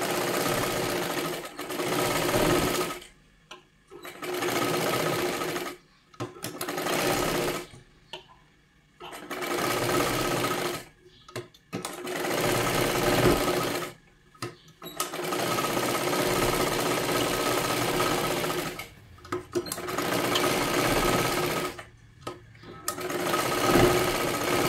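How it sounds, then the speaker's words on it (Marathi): Sewing machine stitching a size 36 katori blouse, running in long bursts of rapid mechanical whirring broken by short pauses, loud and close with no voices. "आता हे आपल्याला व्यवस्थित अशाच पद्धतीने आहे असंच हे शिलाई करायचं आहे."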